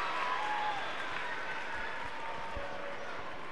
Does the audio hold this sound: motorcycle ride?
no